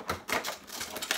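A taped slime package is pried open with quick, crisp crinkling and tearing bursts, close and fairly quiet, in a brief rapid series.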